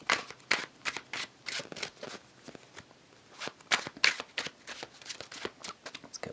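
Tarot cards being shuffled in quick, crisp riffling bursts, close up, with brief pauses between rounds and no talking.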